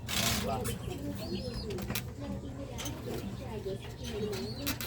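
Racing pigeons at a derby loft give soft, low repeated coos close by, over a steady low hum, with people talking in the background.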